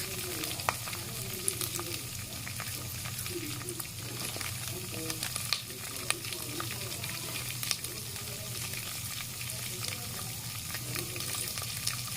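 Chopped onion fries in a pan for a rice dish, giving a steady, close sizzle that runs throughout with occasional light clinks of stirring.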